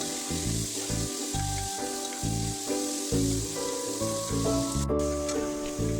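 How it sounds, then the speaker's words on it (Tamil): Onions and tomatoes sizzle steadily in a pan while being sautéed for kothu kari kulambu, a soft frying hiss under prominent background music. "அடுத்ததாக 1 கப்பு வெங்காயம் போட்டு வதக்கிக்கலாம்."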